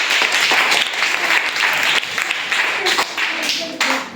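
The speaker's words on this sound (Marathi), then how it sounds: "या सगळ्यांनी टाळ्या वाजवायच्या" Children at a Zilla Parishad primary school quiz in Shendurni burst into loud, sustained clapping up close, with voices mixed into the applause throughout.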